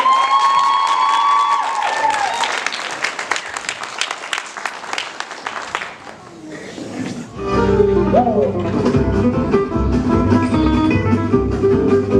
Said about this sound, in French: On peut les applaudir bien fort, s'il vous plaît.